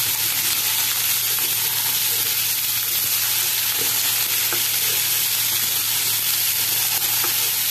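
Skin-on potatoes frying in a pan give a steady, close, loud sizzle, with a few soft scrapes and clicks as they are stirred; no one speaks.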